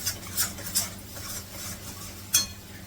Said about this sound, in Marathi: मसाला चांगला परतून घेते